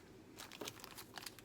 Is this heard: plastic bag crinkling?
yes